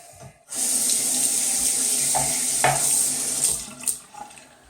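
Water runs steadily from a bathroom tap for rinsing after a shave, a loud, close, continuous splashing stream that starts abruptly and carries on alone with a few brief splashes of hands in the flow.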